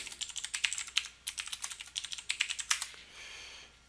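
A password being typed on a computer keyboard: a quick, uneven run of close, crisp key clicks for about three seconds, then a pause with only quiet room noise.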